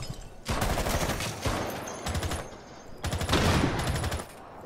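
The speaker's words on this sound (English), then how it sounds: "Just shoot the window." Automatic gunfire in Rainbow Six Siege, aimed at a window, comes in three sustained bursts of rapid, close shots separated by short pauses, with faint crackle between them.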